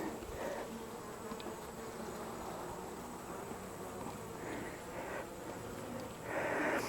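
Worker honey bees in an open hive make a dense, continuous buzzing hum that swells slightly near the end, close and steady with no voices.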